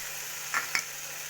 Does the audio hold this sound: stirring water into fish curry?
yes